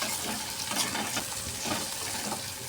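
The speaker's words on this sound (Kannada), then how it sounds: "ಸ್ವಲ್ಪ ಎಣ್ಣೆ ಒಳಗೆ ಈ ಥರ ಫ್ರೈ ಮಾಡಬೇಕು ರೀ." Okra sizzles in a little oil in a pan, a faint, steady crackling fry with light stirring, close and alone.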